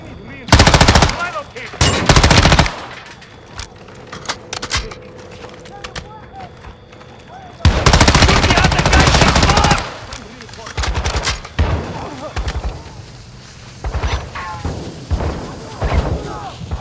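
Bursts of assault rifle fire in Call of Duty: Modern Warfare 2, loud rapid automatic volleys in separate clusters with quieter gaps, game chatter and movement sounds in between.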